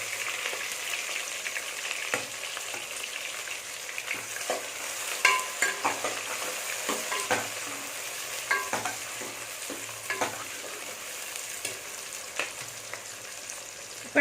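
Small onions sizzle and fry in a pot as the base for a mutton curry, with a steady crackle broken by repeated scraping stirs from a spoon, close and clear with no talking.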